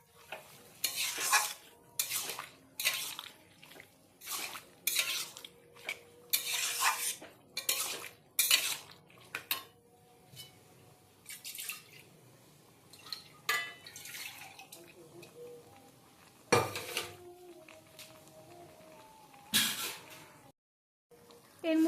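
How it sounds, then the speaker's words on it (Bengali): A utensil stirs and scrapes boiled potatoes and peas with spices in a pan, making repeated loud scraping and clanking strokes against the metal over a soft sizzle. The strokes come in bursts, with quieter gaps between them. "এবার আলু আর মটরের সাথে মশলাটা খুব ভালোভাবে মিশিয়ে নেব।"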